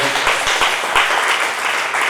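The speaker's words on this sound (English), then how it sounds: "Let's give a round of applause for Dr. Wood and Dr. Mann" Audience at a high school project community meeting breaking into steady applause, a loud, dense wash of many hands clapping close by with a few sharper individual claps.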